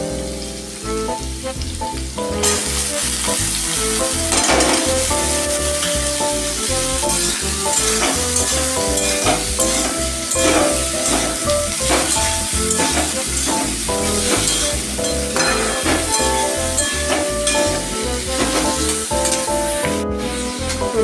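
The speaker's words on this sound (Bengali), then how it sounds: "সবজিগুলো আমার হালকা হালকা ভাজা হলো" Vegetables for pulao sizzle loudly in a pan, a continuous close frying hiss with repeated scraping and stirring strokes throughout.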